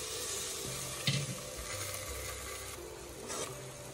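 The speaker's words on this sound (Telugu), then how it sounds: "ఇప్పుడు పాకంలో వేయండి." Fried feni, a flaky Indian sweet, is dropped into sugar syrup, and a steady soft sizzle with faint stirring runs throughout, plus a brief splash or clink near the start and another later on.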